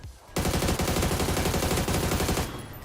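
Automatic weapon fire in the video game PUBG erupts suddenly after a brief quiet moment, a loud sustained burst of rapid shots that cuts off and leaves a fading tail.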